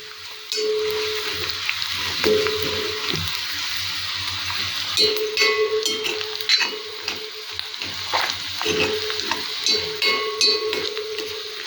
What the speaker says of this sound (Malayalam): എണ്ണ മൂത്ത് വരുന്നുണ്ടല്ലേ?